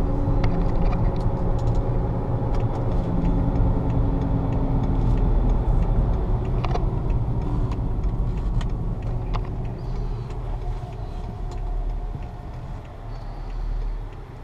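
A 2007 BMW 530i sedan driving and swinging through a U-turn, its steady engine and road rumble close and continuous throughout, easing slightly toward the end with a few faint clicks and knocks.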